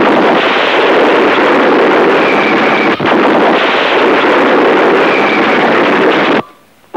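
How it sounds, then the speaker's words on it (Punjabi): Explosions in a Pakistani action film make a loud, continuous roar of blasts with a brief break midway before the sound cuts out at the end; no voices are heard. "ਮਹਿਮਾ, ਤੇ ਧਮਾਕੇ ਤੂੰ ਕਰ ਰਹੀ ਹੈ?"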